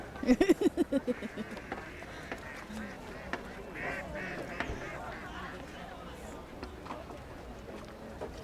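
A quick burst of loud quacking opens, several rapid calls in a row, then fading to faint, scattered sounds over background noise.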